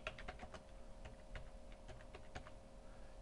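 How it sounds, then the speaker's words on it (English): Typing on a computer keyboard, with quick, faint key clicks in an uneven rhythm and no voice over them. "I can hit the Tab key and I can type in my scene."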